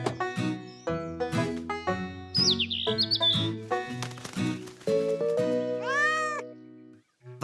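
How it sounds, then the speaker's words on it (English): Cartoon cat stuck in a tree, meowing with rising and falling calls mixed with bright chirpy tones over a steady tonal music bed, loud and continuous for about seven seconds before dropping away. "It was meant to lure down that cat stuck in the tree."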